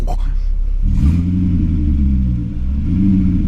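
A BMW 745i E65 V8 with its rear muffler deleted idles with a deep, loud, lumpy burble, heard close after a brief throttle blip.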